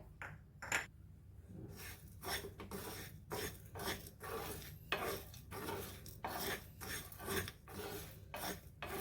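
Grains of salt crackle and tick in a dry pan, with scattered sharp pops and scraping between them, fairly quiet and close.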